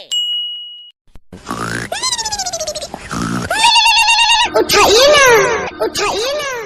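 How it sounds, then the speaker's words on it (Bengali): A cartoonish ringtone sounds in the Indian Bike mobile game, with wobbling, bright melodic chirps and warbles repeating loudly over several seconds after a short silence, mixed with other game effects. "আরে এত সকাল সকাল কে ফোন দিচ্ছে?"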